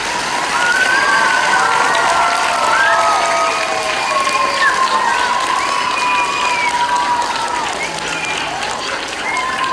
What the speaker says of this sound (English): let's give our second and third graders one more round of applause